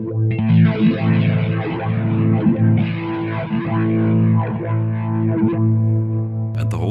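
Electric guitar played through a Kemper Profiler with a morphing effect, a sustained, heavily processed tone with distortion and chorus-like shimmer that grows darker over about seven seconds, loud and continuous with no talk.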